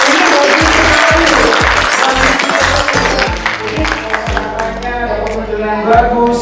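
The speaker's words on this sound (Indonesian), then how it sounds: "kasih tepuk tangan dong" Applause from an audience at a product soft-launch event for PT. AMS Indonesia, loud and sustained, mixed with music carrying a thumping low beat throughout.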